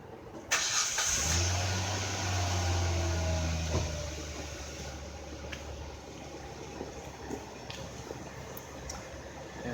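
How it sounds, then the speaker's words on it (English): A 2008 Hyundai Santa Fe with a replaced engine cranks and fires up, settling into a steady, fairly loud idle recorded close to the exhaust at the rear, with no talking. "I'm gonna put this camera in the back so you can see the exhaust"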